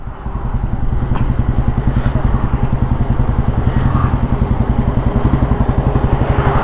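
A 1957 Royal Enfield G2 Bullet vintage motorcycle engine in good condition runs steadily nearby, a loud, even low thumping pulse that continues throughout with no talk.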